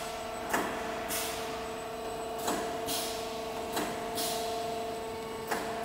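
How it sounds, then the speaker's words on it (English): A double head hydraulic decoiler with motorized drive and hydraulic expansion runs in a trailer mudguard making machine, giving a steady mechanical hum with tonal whine, broken by sharp bursts of hiss at regular intervals. "We can see the double head hydraulic decoiler running"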